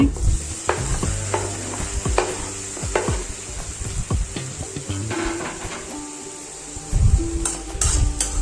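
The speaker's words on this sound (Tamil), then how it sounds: "வெங்காயம் நல்லா வதங்கினதுக்கப்புறம் இஞ்சி பூண்டு பேஸ்ட்டு தக்காளி இதெல்லாம் போட்டு நல்லா மசிய வச்சு வேக வைக்கணும்" Onions, ginger-garlic paste and tomatoes fry in a pan with a constant high sizzle, broken by repeated scraping and clanking strokes of a spatula against the metal, close and busy throughout.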